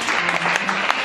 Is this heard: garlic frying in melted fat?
no